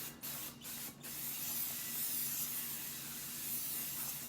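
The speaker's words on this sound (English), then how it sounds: "Give them a really good spray both sides, because obviously you're gonna have a pad hitting both sides of it." Brake cleaner sprayed from an aerosol can onto new rear brake rotors of a 9th-gen Honda Civic Si, a steady loud hiss running for several seconds after a few short bursts, with no talking.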